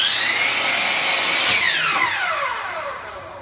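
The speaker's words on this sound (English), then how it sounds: "cut our first angle here." A power saw whines loudly through a board, cutting an angle on a sawhorse leg, its pitch rising and peaking mid-cut before winding down as the blade spins free, up close with no talk.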